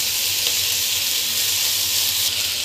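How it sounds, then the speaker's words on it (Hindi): Boiled chowmein noodles being stir-fried with cabbage, onion and capsicum for veg Hakka noodles, giving a steady, loud sizzle and hiss throughout with faint stirring underneath and no talking. "अब हम इसमें डालेंगे जो उबली हुई चाउमीन, और चाउमीन डाल के हमें इसको पत्ता गोभी वगैरह को मिक्स कर लेना है।"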